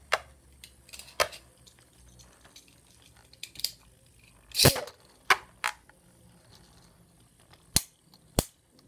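Beyblade spinning tops launched into a stadium and battling, with sharp metallic clacks and collisions scattered irregularly over a faint whirring background, several loud impacts standing out, no talk.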